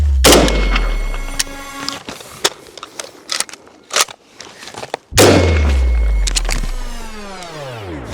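Rifle shots fired in a rapid string at a cardboard target, sharp loud cracks with ringing echoes, a few spaced shots, a pause, then a heavy shot near the end.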